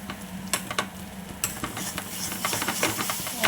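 Egg is being stir-fried in a pan with curry leaves, giving a continuous close sizzle and hiss broken by sharp, irregular scraping clicks of a spatula stirring, with no talking.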